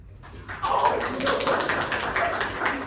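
A small audience applauds in a vote for John, a steady wash of dense clapping that starts after a short silence and holds at an even level, with faint voices mixed in.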